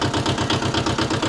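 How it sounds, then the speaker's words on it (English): A farm tractor engine runs close by in an even, rhythmic chug, its low pulses repeating rapidly like a steady idle. "The sound alone can tell you the tractor is coming."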